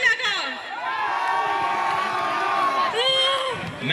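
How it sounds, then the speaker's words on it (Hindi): A crowd at a college freshers' party cheers and whoops loudly and continuously for about four seconds, with shouted voices rising and falling in the mix. "तो जोरदार तालियों से स्वागत करिए दिव्यम शुक्ला का।"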